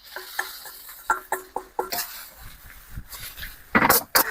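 Rapid scraping and clattering of a spatula stir-frying rice in a hot wok, with sizzling underneath and a sharp metallic clang near the end.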